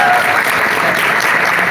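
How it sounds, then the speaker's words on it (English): Audience applause at a social business summit for a young science student, a brief dense burst of clapping, loud and steady throughout. "Give her a round of applause."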